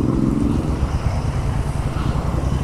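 A Royal Enfield Interceptor motorcycle running on Fuel X pulls away in first gear as the clutch is let out, giving a steady, close, loud engine drone with a low rumble throughout and no talking.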